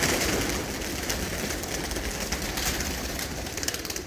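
Pigeons coo inside a coop amid a loud, broadband background hiss, their low calls blending into the steady noise.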